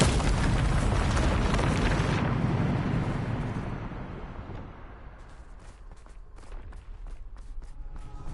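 Bombarda spell explosion in Hogwarts Legacy sounds as a big, loud blast that rumbles and decays over several seconds, followed by scattered debris and footstep-like noises.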